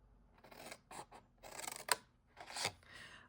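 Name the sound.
scissors snipping paper for a treat box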